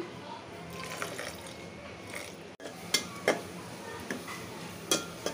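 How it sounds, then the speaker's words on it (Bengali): A little water poured into a cooking pan with soybean oil and spice-coated small fish, soft splashing and sizzle under a few sharp pan clatters and knocks, fairly quiet overall. "আমি একটু পানি দিয়ে দিচ্ছি।"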